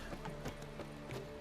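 Horse hooves clip-clopping in the video game The Witcher 3, a steady, evenly paced trot under a soft continuous background bed, fairly quiet and with no voices.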